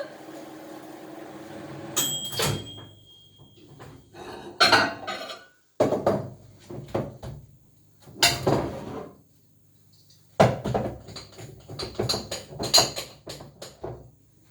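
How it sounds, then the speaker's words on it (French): In a home kitchen, a microwave oven holding melting chocolate is opened, with clunks, clicks and rattles of a door and dishes in separate bursts, fairly close, with quiet gaps between them. "je vais aller chercher le chocolat qui est en train de fondre dans le micro-ondes"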